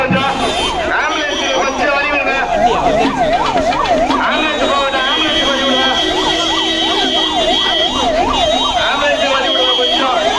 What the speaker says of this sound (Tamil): ஆம்புலன்ஸ் வழிவிடுங்க